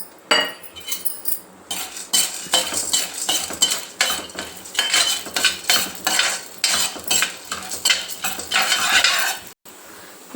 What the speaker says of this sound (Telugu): ఇప్పుడు ఇదే కడాయిలకు కొంచెం నూనె పచ్చనగా పప్పు వేసుకుంటాం